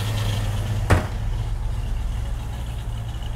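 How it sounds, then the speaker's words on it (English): The 302 V8 of a 1960s Ford Mustang with dual exhaust idles steadily at close range, a low, even, mellow rumble with one brief sharp click early on. "It's kind of a mellow sound, dual exhaust."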